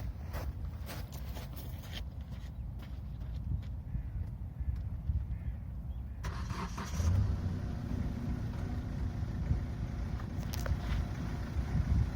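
A Kia Ceed Estate idles steadily throughout, a low continuous engine rumble that grows slightly louder and fuller about halfway through, with occasional small clicks and knocks nearby.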